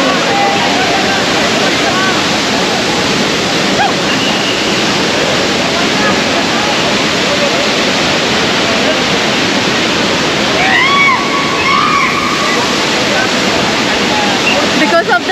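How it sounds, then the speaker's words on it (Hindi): Roaring waterfall at Devkund gives a loud, continuous broadband rush close by, with people talking faintly under the roar. "we need to go and see this waterfall closely before they shut down this place"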